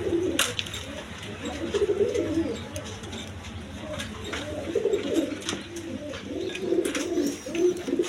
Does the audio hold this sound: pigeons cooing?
yes